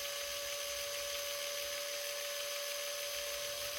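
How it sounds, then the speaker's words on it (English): A small high-pitched drill whines steadily as it bores into a 1/64-scale John Deere model part, a constant tone with a hissing edge, close and continuous. "the reason I'm doing 3 different drill bits is so that hopefully I can drill this"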